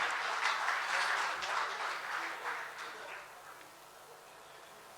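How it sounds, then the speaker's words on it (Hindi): Audience applause welcoming a guest speaker at a public discussion event, a dense wash of clapping that is loud at first and gradually fades away. "एक बार फिर जोरदार तालियों से हम अवध ओझा का स्वागत करें।"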